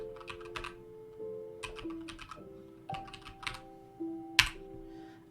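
A card number being typed on a computer keyboard, a few short clusters of close, crisp key clicks separated by pauses, with a faint electronic tone and hum running underneath and no speech.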